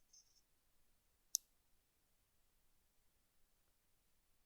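A single faint, sharp mouse click stands out in a near-silent room with a light hiss, as an OK button is pressed in the Vega web application.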